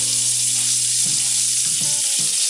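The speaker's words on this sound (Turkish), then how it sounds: "ve her tarafını yaklaşık 3'er 4'er dakika pişiriyoruz." A hamburger patty seasoned with salt and black pepper sizzles steadily in a hot pan, a constant crackling fry with a few soft stirring or shifting clinks, close and unbroken with no voices.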